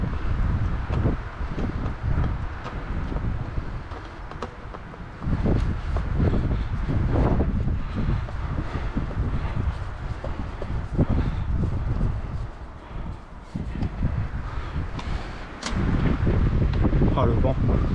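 Strong outdoor wind buffeting the microphone beside a Kymco GY6 50 4T scooter, loud rumbling gusts rising and falling throughout, with a voice faintly mixed in at moments.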